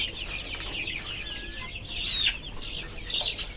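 Chickens cluck on a hot farm where the hens are panting, with a busy layer of clucks and chatter, a few sharper calls rising above the steady flock noise.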